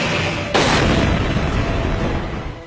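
Pakistani Nasr short-range missile launching with a sudden loud boom that gives way to a sustained roaring rush, fading slowly over a couple of seconds.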